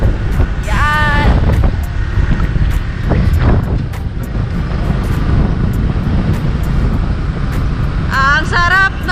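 Wind rushes hard and steadily over the microphone during a ride in the open, with a continuous loud roar. Brief squealing tones rise over it now and then.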